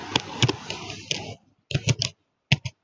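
Typing on a computer keyboard while entering text into a presentation slide, with bursts of close, crisp key clicks, a brief pause, then a few more scattered taps.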